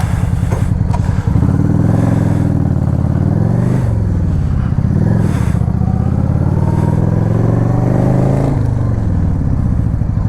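Motorcycle engine running loud and steady throughout a ride, a low harmonic drone whose pitch rises and falls with shifts in revs, with no talk over it.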